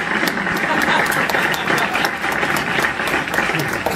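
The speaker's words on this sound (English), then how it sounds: "Canned applause. Yes. Applause." Canned applause plays at a calculator users' conference talk: a dense, steady burst of recorded clapping that is loud and continuous for several seconds.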